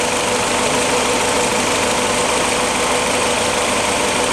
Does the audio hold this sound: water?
no